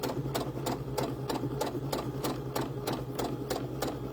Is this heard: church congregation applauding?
no